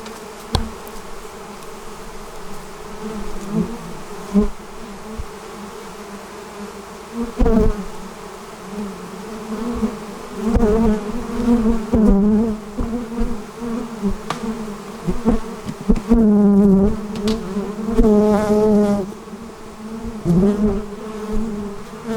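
Angry honeybees pour out of a hot hive while they are fed during fall hive preparation, a loud, dense, steady buzz of many bees close by. Occasional clicks and bumps break through the droning swarm.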